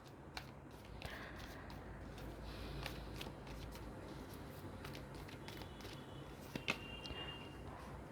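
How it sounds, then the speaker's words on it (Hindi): Tarot cards shuffled and drawn at a reading, giving soft papery riffles and flicks with several sharp snaps and taps close by, a low hum underneath and no talking. "हम दो ये कार्ड निकालेंगे, दोनों पॉइंट पे हम कार्ड निकालेंगे।"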